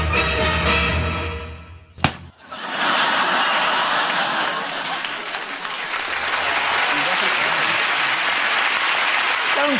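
A television studio audience on a British chat show bursts into loud, sustained applause mixed with laughter, following a brief sharp impact and moment of quiet, with a voice talking over the start.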